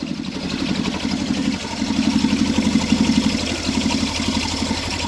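A cherry picker truck engine idles with a steady low rumble that swells slightly in the middle as it revs, close and continuous.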